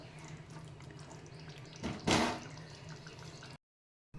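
Water splashes and runs inside a pressure cooker being rinsed clean before cooking mutton curry, a steady close washing sound with a louder surge of pouring near the end.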